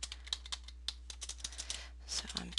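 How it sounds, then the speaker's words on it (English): Someone types a password on a computer keyboard, producing a quick irregular run of light key clicks over a faint steady hum, with a brief denser burst of keystrokes near the end. "typing my password in here"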